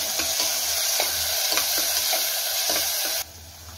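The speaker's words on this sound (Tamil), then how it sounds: "பட்டை அப்புறம் காஞ்ச மிளகா போட்டுருங்க" Cinnamon and dried chillies sautéing in a pan for Chettinad mutton, a loud continuous sizzle broken by regular stirring scrapes, then cutting off abruptly near the end.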